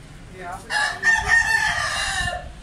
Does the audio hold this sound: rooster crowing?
yes